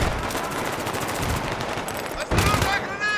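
Automatic weapon fire in Battlefield 3, with rapid, continuous bursts of loud shots filling the scene and a short pause before another heavy volley.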